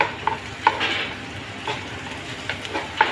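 Tomatoes and ginger fry in a pan for a sweet and sour tilapia dish, a steady sizzle under repeated scraping stirs and soft utensil taps spaced irregularly, close by.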